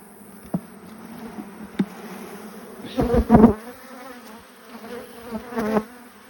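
Honey bees from an opened farm hive buzz close by in short, uneven bursts, with a few individual bees zipping past loudly against a quiet background.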